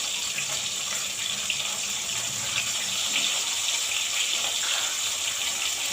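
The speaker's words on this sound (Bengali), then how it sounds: "চালটা ধুয়ে নিই, চালটা ধুয়ে" Rice being washed under a running kitchen tap, a steady splashing gush of water filling and sloshing in a container, close and continuous for the whole stretch.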